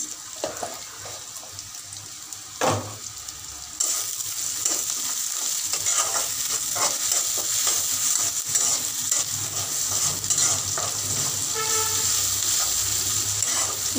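Onions fry with added salt in a pan for a stinging catfish bhuna, giving a continuous sizzle that grows louder partway through, with scraping stirs and faint watery sounds beneath.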